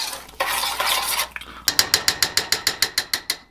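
Peanut brittle sugar mixture stirred in a pot over medium heat, with a soft rustle followed by a quick, regular series of about a dozen clicking scrapes from the spoon against the pot, close and clear.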